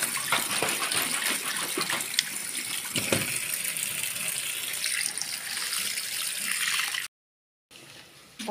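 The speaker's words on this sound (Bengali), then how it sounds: "কুলগুলি ধুয়ে নিলাম" Jujube fruits get washed under running water, a steady close gushing wash that continues for several seconds, breaks off briefly, then resumes, with no talk.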